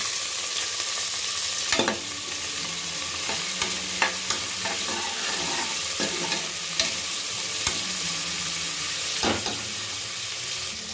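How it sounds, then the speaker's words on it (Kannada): Onions and cumin seeds frying in hot oil for a simple curry, an even, steady sizzle with periodic scraping stir strokes of a spatula against the pan. "ಈಗ ಈರುಳ್ಳಿ ಹಾಕೊಳ್ಳುವ"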